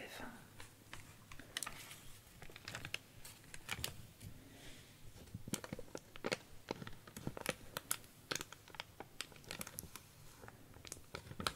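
Very thin paper from an artwork is handled close to the microphone in an ASMR setting, producing quiet irregular crinkles, rustles and light tapping clicks, with soft talking at times.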